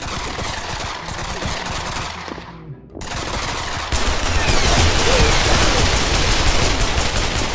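Automatic rifle fire in the VR shooter game Pavlov, long rapid bursts of gunfire that pause briefly near the middle and then resume louder and denser.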